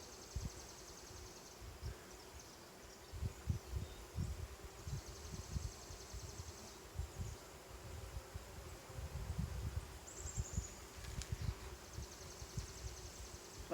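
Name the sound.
honeybees buzzing around an open beehive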